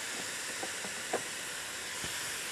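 Sliced pork, onion and carrot stir-frying in a hot dry pan with no oil, a steady broadband sizzle throughout with a few faint clinks and scrapes of a utensil.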